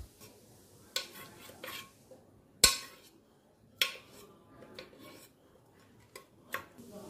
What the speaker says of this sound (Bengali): এরপর কুকারের গায়েতেই কিছু লঙ্কা আর কয়েকটা ছোলার দানা একসাথে ম্যাশ করে নেব